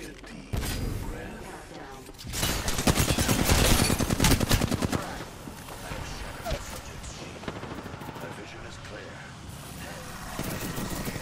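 Rapid bursts of gunfire in the battle-royale game Apex Legends, loudest in a dense cluster early on, then sparser mechanical clatter with voices talking over the action.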